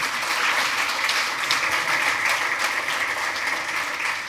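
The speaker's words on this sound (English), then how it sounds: "a huge round of applause" An audience at a demo session breaks into dense, sustained applause for several seconds, many hands clapping together at full strength throughout.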